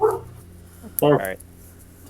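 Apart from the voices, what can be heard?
dog barking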